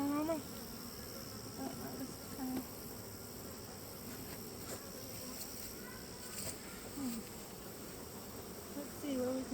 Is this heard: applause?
no